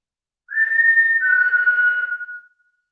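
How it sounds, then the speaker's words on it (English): A single clear whistle from outside at Michelham Priory, held steady for about two seconds with a slight drop in pitch midway, alone in silence. "Keep thinking I can hear whistling coming from out there."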